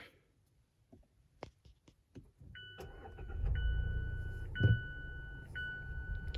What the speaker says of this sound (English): push the button to start the car